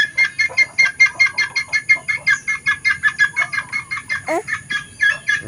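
Chickens cluck in a rapid, regular series of close, loud calls, with a few overlapping cackles from other birds.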